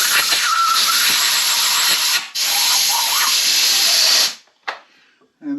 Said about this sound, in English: I'm just going to simply blow out the cylinder.